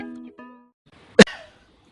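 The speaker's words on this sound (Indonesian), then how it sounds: "11. Batuk lambat." One sharp cough at close range follows a drawn-out vocal tone and a shorter tone. It is an exaggerated slow cough performed as a comedy cough type, with a brief rough tail after it.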